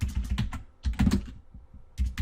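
Quick typing on a computer keyboard, close and clear: two short bursts of rapid key clicks separated by a brief pause, then a final cluster of taps.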